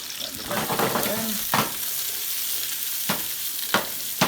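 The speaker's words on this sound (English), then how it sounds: "Just a rough saute, not a big so they have a little crisp on them." Vegetables for chicken and shrimp jalfrezi sauteing hard in hot oil: a loud, dense sizzle with several sharp clanks of a utensil against the pan, no talking.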